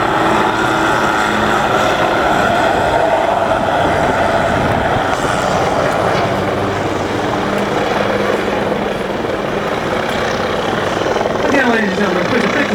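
A helicopter hovers at a Rotorfest airshow finale, giving a loud steady rotor wash and engine roar throughout, with a faint rhythmic blade chop near the end.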